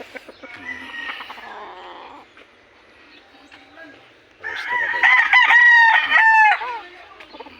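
Backyard chickens cluck and a rooster crows loudly nearby, the crow rising after a quieter stretch of clucking and murmuring, with faint voices in the background.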